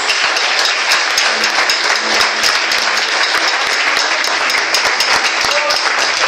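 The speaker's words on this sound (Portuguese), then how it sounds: "Então aplauda ao Senhor mais uma vez." A church congregation applauds loudly and steadily, dense clapping from many hands filling the whole stretch without pause.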